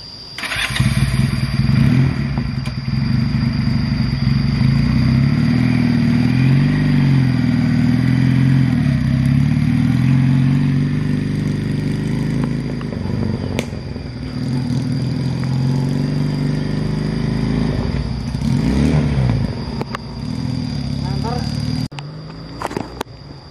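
A motorcycle is started, then idles and pulls away in a steady, loud, close engine drone that lasts throughout, with slight rises and dips in revs and brief clatter near the end, while people talk underneath.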